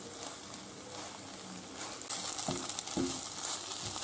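Onion sizzles and fries steadily as it caramelizes in a pan, a soft continuous crackle with a few stirring scrapes and clicks toward the end, fairly quiet and close.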